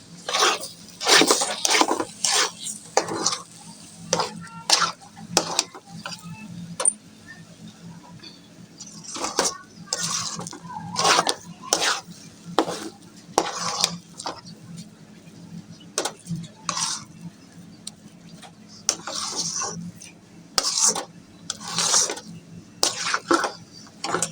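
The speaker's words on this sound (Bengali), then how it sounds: "এখন শুধু নাড়ার উপর থাকতে হবে না হলে নিচে লেগে যেতে পারে" A spoon clinks and scrapes against a pan while semolina halwa is stirred, in a series of sharp, irregular metallic taps and rattles over a quiet background.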